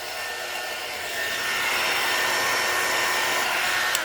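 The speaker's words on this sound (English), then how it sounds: "pardon the noise while I emboss this" A heat embossing tool blows with a steady, airy whir like a small hair dryer, close and continuous, swelling slightly partway through.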